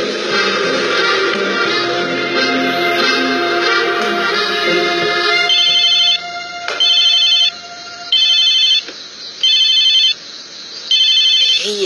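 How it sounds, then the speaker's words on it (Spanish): A phone rings loudly in repeated electronic bursts with short gaps between them, following a stretch of background music. "ese teléfono se va a reventar"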